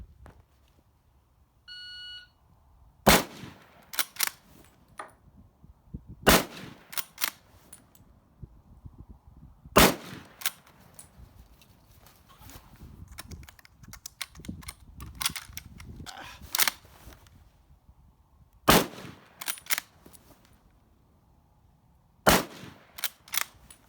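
Bolt-action M1903 or M1917 rifle fired on a timed course, with six sharp, loud shots spaced a few seconds apart amid quieter handling noise between them.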